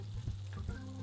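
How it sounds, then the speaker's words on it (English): Fish laid skin side down sizzling in a pan, a close, steady frying crackle with a low hum and a few brief pops, heard alone without talk. "It's easiest to go skin side first and apply a little pressure so that that skin actually gets that crispiness"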